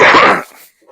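One loud, close sneeze bursts out during an online sports talk show, cutting off sharply into near silence.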